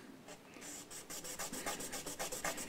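Sandpaper rubbed by hand on a part of an Epiphone EJ200 acoustic guitar, a quiet close series of short rasping strokes that settles into a regular back-and-forth rhythm.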